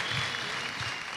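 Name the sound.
applause for the families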